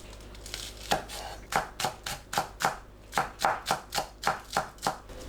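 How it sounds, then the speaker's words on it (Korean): Green onions chopped with a knife on a cutting board: a steady, close run of crisp, evenly spaced chops, about three per second after a brief pause near the start, with no talk over them. "파를 작게 썰어줍니다"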